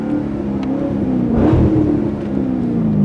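A car engine, pitched as a half-million car, hums at a steady idle and then swells in a short rev around the middle before easing back to a continuous drone; close and loud, no talk.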